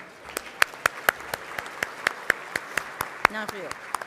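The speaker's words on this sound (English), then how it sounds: "A round of applause for them." Audience applause at an annual leadership awards gala, distinct sharp claps spaced at a steady pace over a diffuse wash of hands, with brief voices near the end.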